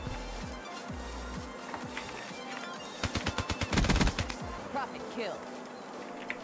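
Man o' War rifle fire in Call of Duty Black Ops 3, heard as scattered shots early, then a rapid burst of close, loud rounds in the middle with a few more shots trailing after, amid busy game noise.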